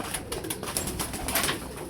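Pigeons coo in a loft or coop where they are kept and bred, soft repeated calls close by with rustling and background noise, no talk.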